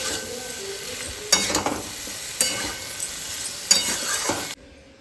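Ground coriander, turmeric, chilli and a little mustard paste frying in a pan for a vegetable labra curry, a steady close sizzle broken by three bursts of stirring and scraping, ending abruptly, no voices.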